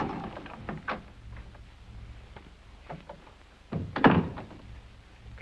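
Someone pounds and rattles a closed door in a 1952 film scene, a series of loud irregular thumps and knocks with a heavier cluster near the end, heard alone without talk.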